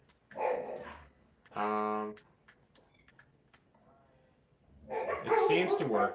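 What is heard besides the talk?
dogs barking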